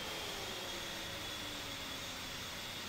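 Jet engines of an SU-25T attack aircraft idling after startup in the DCS World flight simulator, a steady, dense broadband roar with a faint high whine running throughout, constant and unbroken with no talking.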